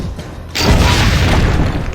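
A magically repaired cannon in a video game fires with a single heavy boom that swells suddenly and lingers as a dense, rumbling roar for over a second.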